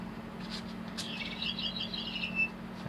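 A small electronic foam cat toy ball lets out a quick series of high, bird-like chirps, faint against a low steady hum, after a couple of soft clicks.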